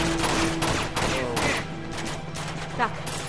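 Gunfire from the video game Uncharted 2: Among Thieves, a dense fusillade of game shots with background game music, steady and fairly loud throughout.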